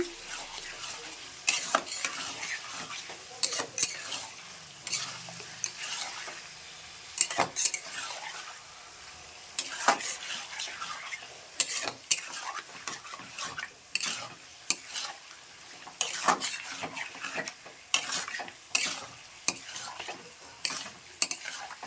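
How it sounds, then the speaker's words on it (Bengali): Mutton stir-fried and worked in a pan, with a steady sizzle broken by frequent sharp scrapes and clinks of a metal spatula against the pan, close and continuous, with no talking. "দেখো এবার কিন্তু আমি ভালো করে কষিয়ে নেব"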